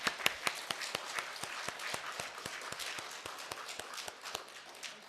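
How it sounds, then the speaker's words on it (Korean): Church congregation clapping together in thanks, a brisk stream of sharp handclaps that carries on steadily throughout at moderate volume, with no talking over it. "우리의 부모님들께 우리 감사의 박수 한번 합시다."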